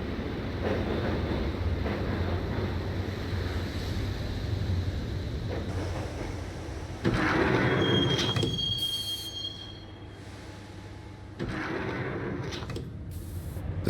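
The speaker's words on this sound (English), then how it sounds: "the train doors had already shut behind me, and I was in for the ride" A subway train in the video game Max Payne rumbles steadily along the tracks, with bursts of louder rattling, a thin wheel squeal and brief surges as carriages clatter; no talk.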